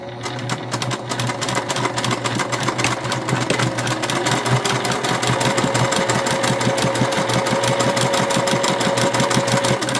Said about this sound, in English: I am just back stitching at the beginning and the end